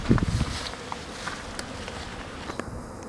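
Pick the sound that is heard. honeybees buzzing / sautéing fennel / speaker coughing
honeybees buzzing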